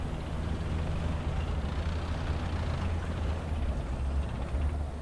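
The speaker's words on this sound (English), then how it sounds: "It's definitely a heli." Steady low rotor-like drone of a helicopter in War Thunder, a dense continuous rumble with broadband wash that holds evenly throughout, with no clear talk over it.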